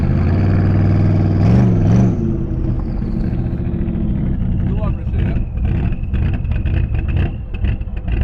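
A struggling car engine, apparently running out of fuel, revs and sputters unevenly, straining and rising in pitch, with people talking loudly over the steady mechanical rumble.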